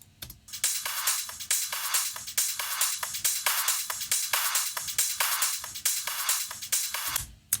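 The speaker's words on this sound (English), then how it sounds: "it was applying an LFO tool to cut out the clap, which I didn't like much." A looped electronic drum beat with steady, evenly spaced hits and bright noisy transients, the clap gated away by an LFO volume tool so the pattern pulses rhythmically, loud and alone with no talking.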